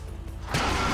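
A boat engine fails in the video game Grand Theft Auto 5, a quiet rattling hum suddenly giving way to a loud, harsh mechanical grinding clatter that holds steady.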